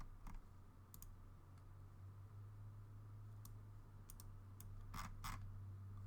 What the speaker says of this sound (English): Did I double click that or something?